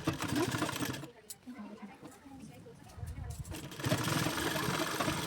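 A sewing machine runs in quick steady bursts stitching a size 40 katori blouse seam from waist to sleeve, loud and close, pausing in the middle before whirring again.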